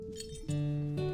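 Delicate, icy tinkling like fine glass rings out in a brief pair of bright, clear chimes, close and soft.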